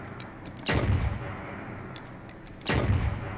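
Two heavy, booming gunshots from a weapon in the video game Firefall, spaced about two seconds apart, each with a long rumbling decay over faint background noise and no speech.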